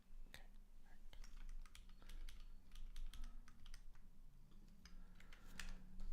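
A cat sitting on a computer keyboard presses the keys, producing a close, irregular run of sharp clicks and taps over a low steady hum, with no talking.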